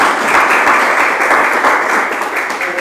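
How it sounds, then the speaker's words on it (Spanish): Congregation applause for the King during a worship service, dense steady clapping from many hands, loud and continuous across the short stretch. "Vamos a dar un aplauso al Rey"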